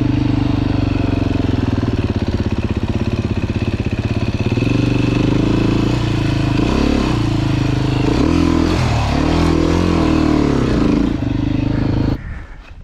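Dirt bike engine at practice jumps in Rifle, Colorado, running loud and close with a steady idle that rises into several revving blips before cutting off abruptly near the end.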